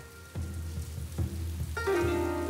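Rain falls on Tongmo village in Anhui province, China, as a steady, fairly loud hiss with a few soft thuds, no one speaking.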